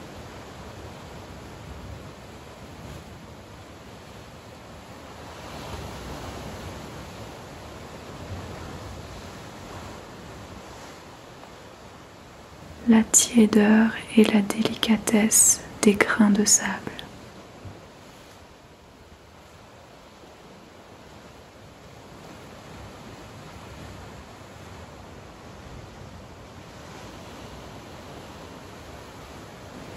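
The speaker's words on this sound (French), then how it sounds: "Le son reposant des vagues." Sea waves keep up a soft, constant wash at the shore, briefly covered midway by a calm voice speaking for a few seconds before the steady surf returns alone.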